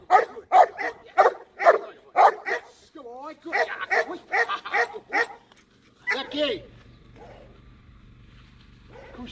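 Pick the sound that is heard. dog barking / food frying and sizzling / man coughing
dog barking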